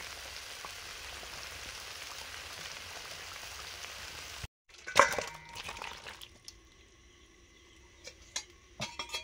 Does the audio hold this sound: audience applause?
no